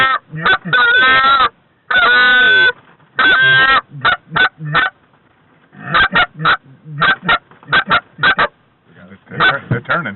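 Resident geese flying high overhead honk loudly and repeatedly on a Long Island hunting trip, bursts of harsh calls coming in irregular clusters close by with short pauses between, no talk over them.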